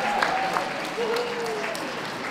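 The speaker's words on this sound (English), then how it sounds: "Can we give the those leading the ring a round of applause" A dog show audience at the WELKS 2016 hound group applauds steadily for the handlers leading the ring, a dense continuous wash of clapping with a faint thin tone drifting through it.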